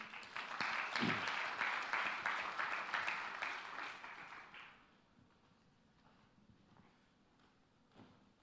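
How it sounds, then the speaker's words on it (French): A church congregation applauds loudly for about four seconds of dense, rhythmic clapping, then the applause fades to a few scattered claps and quiet room noise. "Acclamons le frère Daniel."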